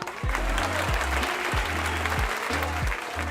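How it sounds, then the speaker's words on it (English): Library applause effect playing loudly and continuously for a few seconds, while a theme-song music bed runs under it with repeating low tones. "And that applause isn't for me."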